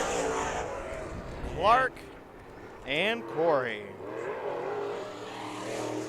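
IMCA Modified race cars at Perris Auto Speedway roar past in a couple of brief rising-and-falling engine bursts, partly buried under an announcer talking over a steady crowd-and-track background.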